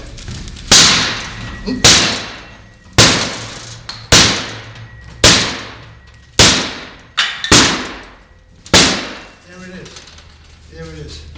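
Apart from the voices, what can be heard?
banging tool against door to force it open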